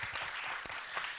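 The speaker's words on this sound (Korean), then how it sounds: "박수 한번 주십시오." A brief, faint patter of audience applause at an early childhood arts education results-sharing event, steady and distant with a couple of sharper claps.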